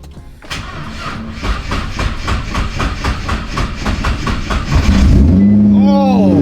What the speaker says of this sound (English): the last time I started up this car, we kind of had some problems. It barely started, so here goes nothing.